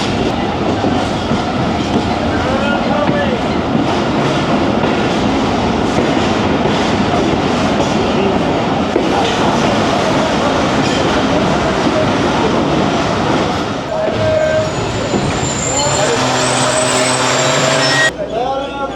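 A Jaffar Express passenger train runs fast on the line between Rawalpindi and Jhelum, a loud, steady roar with rapid clickety-clack from the wheels, and some voices faintly underneath, easing off near the end.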